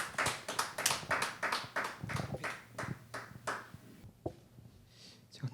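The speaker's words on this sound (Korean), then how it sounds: "우리 함께 박수를 한번 보셨으면 좋겠습니다." A congregation applauds at a Friday praise-and-worship gathering in a church. The dense clapping is soft and distant and thins out after a few seconds.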